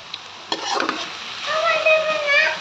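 Leafy greens are stir-fried in a pan with a short stirring scrape followed by a bright, hissing sizzle that swells and holds, close and fairly loud, with no one speaking.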